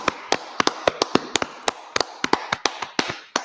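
Claps from an audience at a Harlem class of the Israelite School of Universal and Practical Knowledge, sharp and sparse and loosely timed, a couple dozen distinct hand smacks over a few seconds with no talk over them.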